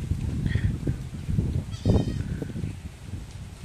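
A goat lets out one wavering bleat midway through, standing out over rustling, low farmyard noise.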